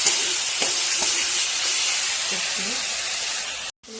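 Cauliflower and potato with masala frying in hot oil, a loud, continuous sizzle and hiss with a few faint clinks and brief sounds, cut off by a sudden drop near the end.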